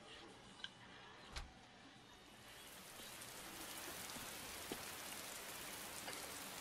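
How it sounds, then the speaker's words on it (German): Heavy rain pours steadily in the video game Heavy Rain, a dense hiss that builds after a couple of soft knocks early on and then stays constant at a quiet level. "Regnet sehr stark heute."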